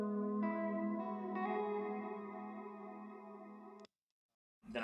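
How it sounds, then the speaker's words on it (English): An electric guitar chord rings through a dark reverb pedal with long pre-delay, sustaining and swelling with a second strum before cutting to silence, then a fresh attack returns at the end. "it's a really dark reverb"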